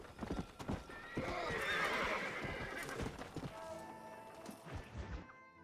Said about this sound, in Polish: Ride a horse.